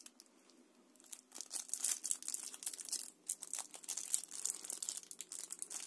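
Mail parcel holding a scratch-removing touch-up pencil being torn open and unwrapped, with bursts of close crinkling, crackling plastic and tearing after a quiet start, continuing irregularly throughout.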